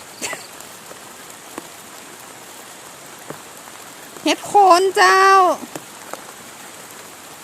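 Steady rain patters outdoors on a termite-mushroom foraging trip, a dense even hiss throughout, with a voice speaking briefly partway through.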